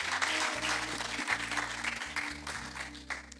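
A church congregation applauds to acclaim the Lord, giving sustained, dense clapping from a crowd over an ongoing low musical drone.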